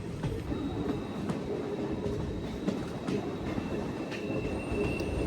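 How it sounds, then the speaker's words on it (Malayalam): A passenger train hauled by an electric locomotive in front and pushed by a diesel engine at the rear rumbles along steadily, with low rolling noise, faint wheel squeal and occasional clacks throughout. "ഈ ട്രെയിൻ ഇപ്പോൾ പൊയ്ക്കൊണ്ടിരിക്കുന്നത് ഇലക്ട്രിക് എൻജിൻ ഫ്രണ്ടിൽ നിന്ന് വലിക്കുന്നു, ഡീസൽ എൻജിൻ പുറകിൽ നിന്ന് തള്ളിക്കൊടുക്കുന്നുണ്ട്"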